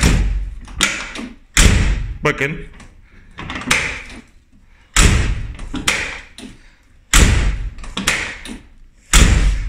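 Door of a cheap old car being worked by its freshly painted handle and closed, several heavy thuds and clunks in an irregular rhythm, close and loud, with someone speaking briefly between them.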